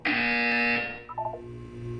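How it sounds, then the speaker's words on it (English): A harsh electronic buzzer from the video game Portal 2 blares loudly for under a second, then cuts off, followed by a few short electronic blips and a low hum. "When you hear the buzzer, look down at the floor."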